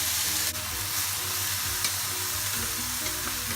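Turkey sautéing in a pan with a spoonful of vegetable broth gives a loud, steady, close sizzle that holds unbroken, with a low hum underneath and one small knock near the start.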